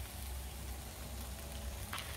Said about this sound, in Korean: 지글지글 소리 들리시나요?